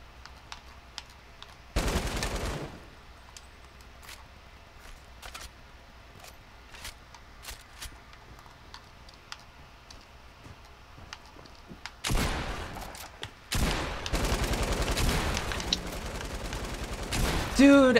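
Bursts of gunfire in Fortnite: one short volley early on, then long, dense rapid-fire stretches later, with scattered small clicks in the quieter gap between them.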